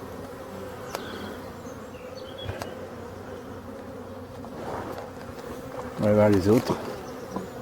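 Honeybees buzz around a seven-frame hive, a steady close drone of many insects with a louder burst as bees pass near, while a person speaks French briefly over it.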